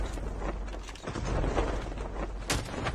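Dense gunfire in Call of Duty crackles and booms continuously, with a sharp loud burst near the end, filling the whole stretch without speech.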